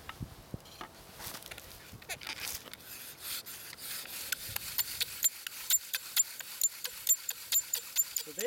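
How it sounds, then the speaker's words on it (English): A bow drill rubs wood rapidly against wood to start a fire in a fast back-and-forth rasp. The rhythm is steady and close, with the strokes growing sharper and more distinct toward the end. "let's see if we can get a fire going here with this bow drill."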